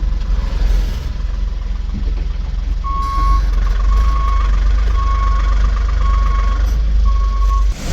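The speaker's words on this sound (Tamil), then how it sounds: "லாரி வேறு வருது." A lorry rumbles close by on a dirt road, its heavy engine drone steady throughout, while a reversing alarm beeps in a regular repeating series over the engine noise.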